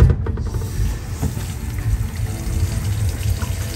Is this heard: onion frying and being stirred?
no